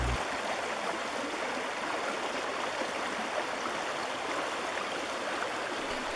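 A stream flows steadily beside a classroom hatchery fry release, a soft continuous wash of running water with gentle trickling and no voices.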